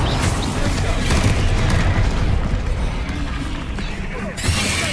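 Fiery Incendio spell blasts in Hogwarts Legacy combat, a dense run of low booms and crackling bursts that stays loud and busy throughout, with a sharp swell near the end.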